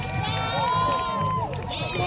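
A crowd cheers at a mud bog truck run at a logging day event, with continuous shouting and voices over a rumbling, revving truck engine, loud and steady.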